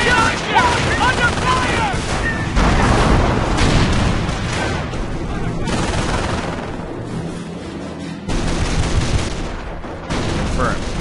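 Dense battlefield gunfire from Company of Heroes, with sustained rifle and machine-gun bursts and heavy booms rolling loud and continuous throughout, while soldiers shout over the din.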